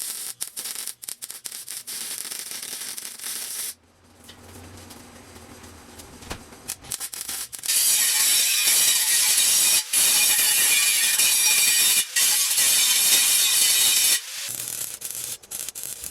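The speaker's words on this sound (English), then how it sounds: "because this is just a little handheld grinder" A small handheld grinder cuts through the steel bumper of a food truck trailer, a harsh loud hiss and screech of abrasive on metal, pausing briefly before a long sustained cut.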